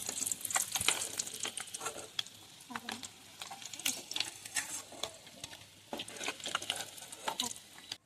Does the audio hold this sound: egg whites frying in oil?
yes